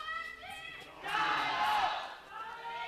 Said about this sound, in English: Actually hearing the crowd is very refreshing. It's actually deafening in the arena right now.